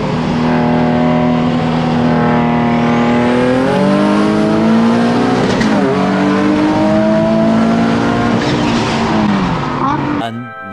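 A turbocharged Nissan Z accelerates hard in one long pull, the loud engine tone rising steadily through the gears with a brief shift dip, recorded close from inside the car.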